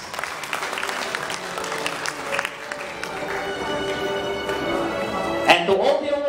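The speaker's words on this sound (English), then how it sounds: "And how about final applause for all the awardees?" Sustained crowd applause for awardees at a Miss Tourism World Philippines pageant, steady clapping with a few cheers and a brief louder burst near the end.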